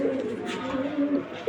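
Racer pigeons give soft, low cooing calls close by, a short burst of throaty warbling notes.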